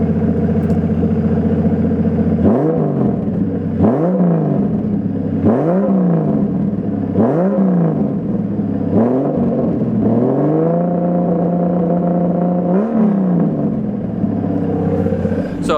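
A turbocharged car engine, with a faulty turbo needing replacement, runs after start-up, revving repeatedly in a series of rising and falling bursts before settling into a steady idle, close and loud.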